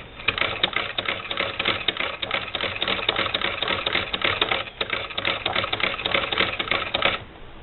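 A small Singer Model 20 SewHandy toy sewing machine stitches steadily at a slow pace, giving a continuous close mechanical clatter with regular rapid ticks, stopping abruptly at the end.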